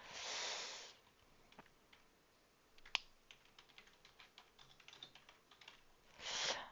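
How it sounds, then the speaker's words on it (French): Rapid clicking keystrokes on an ergonomic computer keyboard, close and quiet, with brief bursts of hiss at the start and end. "Il est génial ce clavier ergonomique"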